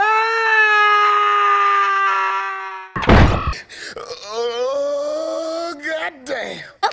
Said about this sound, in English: Laundry doesn't scream and go thud.